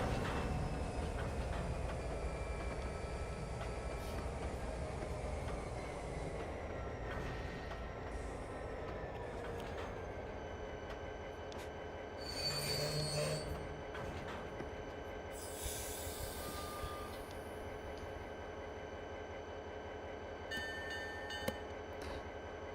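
A model train rolls along the rails of a layout's Bayport branch line between stations, a steady faint rumble and hum with wheel squeal and a few brief clicks and chimes, no talking.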